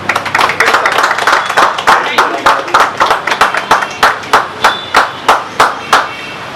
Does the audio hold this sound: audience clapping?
yes